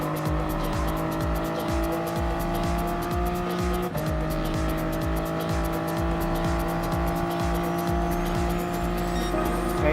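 Race cars run on track in Gran Turismo Sport, including two BMWs, a loud continuous engine drone with steady rhythmic pulsing and tire squeal, held close and unbroken.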